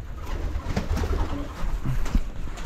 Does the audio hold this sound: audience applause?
no